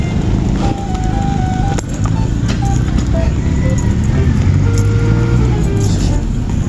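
A large vehicle roars past close by on a narrow residential road where people are walking and jogging, its loud engine rumble steady throughout with a few faint rattles and squeaks mixed in.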